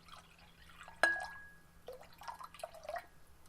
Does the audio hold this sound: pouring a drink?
yes